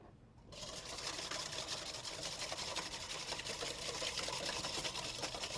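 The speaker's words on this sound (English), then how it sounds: "I'm whisking this together in a big bowl." Whisk beating vinegar and oil together in a big bowl, a fast, steady rattling and clicking that starts abruptly and continues evenly at close range, no speech.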